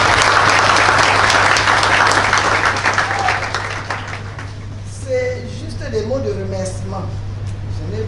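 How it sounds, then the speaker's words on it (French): An audience at a microbiology conference applauds loudly and thickly. The clapping thins out and fades after a few seconds, and a voice then begins speaking. "Donc je vous prie de vous applaudir vous-même."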